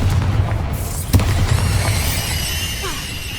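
A Confringo blasting spell explodes in Hogwarts Legacy with a loud, booming burst followed by a rumbling tail, with whooshing and ringing magical effects layered over the blast and no voices.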